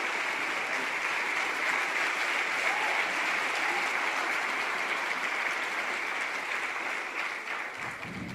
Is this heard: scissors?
no